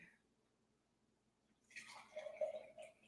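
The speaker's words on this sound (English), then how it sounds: "So I'm gonna pour this juice in here." Juice poured into a glass, beginning after a quiet stretch and running as a steady, splashy liquid stream for the last second and a half, close and moderately loud.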